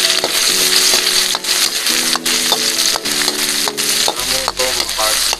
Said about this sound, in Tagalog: Prituhin na natin yung luya.